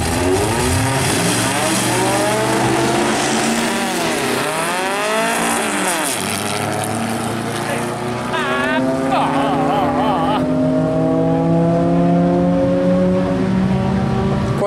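A race car climbs a hill course at the 2019 Rivanazzano Hills Race, its engine loud and close, revving up and down through gear changes while an announcer talks over it.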